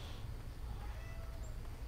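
A cat meows once in the King's Quest video game, a short, soft, drawn-out call over a low, steady background hum.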